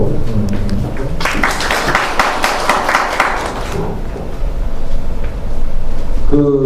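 A burst of clapping from a small forum audience rises in the middle, with talking before and after and room noise underneath.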